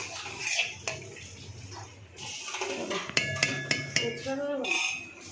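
Plates and metal dishes being washed in a home kitchen, with clinks and clatters of ware knocking together over running water, fairly close and continuous, punctuated by sharper metallic strikes.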